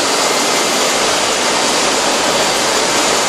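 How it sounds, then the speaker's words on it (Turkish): An olive oil press machine at an olive oil factory roars with a dense, steady broadband rush, loud and close, unbroken from start to finish. "Burada yağımız sıkışıyor şu anda makinede."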